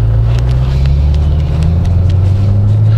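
A supercharged Chevrolet Camaro SS rated at 600 horsepower drones with a deep, steady engine rumble and rising pitch as it pulls, loud and close, mixed with wind rush and no talking.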